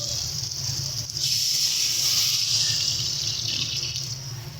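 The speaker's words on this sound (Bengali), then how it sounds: "দিয়ে দেবো পরিমাণ মতন জল।" Water poured steadily into a pan of potato curry, a continuous bright hissing splash that runs the whole time at an even level.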